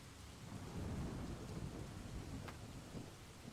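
Rain falls steadily outside while low thunder rumbles, the storm sounding faint and distant through a wall, with no voices.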